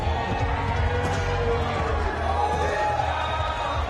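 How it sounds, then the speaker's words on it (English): A large crowd roars and murmurs steadily at a TPF 31 fight event as a UFC veteran featherweight makes his entrance, a dense, continuous wash of noise at even loudness under a commentator's voice. "The crowd is excited about this one."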